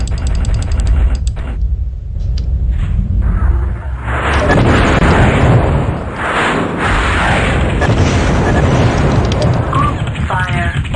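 An internal ammo explosion in MechWarrior 2 produces heavy, loud rumbling booms and bursts over constant mechanical noise, with a voice speaking over the start.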